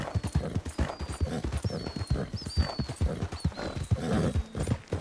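Horse hooves clip-clop in Red Dead Redemption II in a steady, brisk rhythm, close and clear, with a faint whinny drifting in the background.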